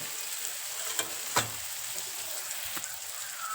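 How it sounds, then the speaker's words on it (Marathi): Chopped onion fries in a pan with mustard seeds, cumin and turmeric added, giving a steady close sizzle with a few sharp crackles and pops and no talking. "आपला कांदा छान परतलेला आहे यामध्ये मी एक चमचा मोहरी टाकते एक चमचा जिरं आणि एक चमचा हळद"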